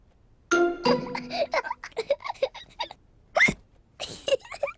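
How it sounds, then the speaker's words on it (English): George, a cartoon pig, hiccups in short squeaky bursts, then gives two louder, sharper hiccups after a pause, each one close and abrupt with nothing else around. "George drank his juice too quickly and now he has hiccups."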